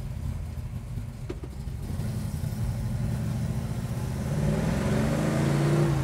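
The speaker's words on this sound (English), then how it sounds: "Listen to those pipes." A 1966 Chevrolet Chevelle with a 5-speed transmission drives by, its engine and exhaust pipes giving a deep, continuous rumble that swells gradually louder toward the end, with no voices.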